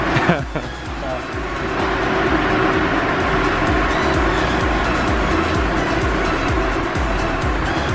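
Supercharged BMW M5 with its stock engine revving steadily, a loud continuous engine roar that holds for several seconds, close up, with people talking over it.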